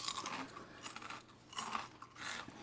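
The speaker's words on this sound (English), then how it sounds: "And they're kettle cooked chips, so they're very crunchy." Kettle-cooked potato chips crunched and chewed close to the mouth in bursts of crisp, crackling bites with short pauses between them, with no talk.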